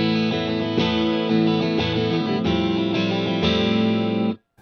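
A clean electric guitar plays through the clean channel of a Soldano Astro 20 amplifier, sustained chords and notes, bright and full with a chorus-like shimmer, ringing steadily before cutting off abruptly at the end.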